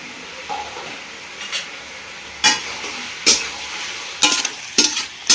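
Onions fry with chicken masala in a pan, a quiet background sizzle broken by several sharp scraping clatters of a spoon stirring against the pan at irregular intervals.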